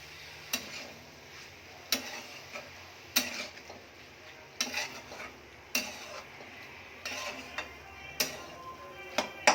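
A utensil stirs spices into khichuri in a pan, giving sharp intermittent scrapes and knocks against the metal every second or so over a faint background hiss, close and fairly quiet.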